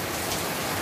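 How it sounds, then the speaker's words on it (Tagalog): Heavy rain pours down hard in a dense, unbroken roar on the surfaces nearby, loud and close for the whole short stretch, with no voices. "So, sobrang lakas ng ulan."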